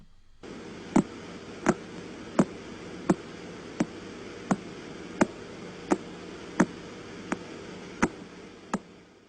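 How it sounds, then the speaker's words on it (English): Radio emission from a pulsar star rendered as sound: sharp, evenly spaced clicks about every 0.7 seconds, slow and regular over a steady hiss, with no speech. "That's the sound of what they call a pulsar"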